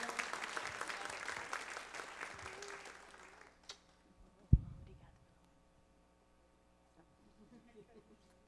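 Church congregation applauding during a women's ministry Mother's Day gratitude service, moderate steady clapping for about three seconds that tapers off, followed by a sharp thump and near silence.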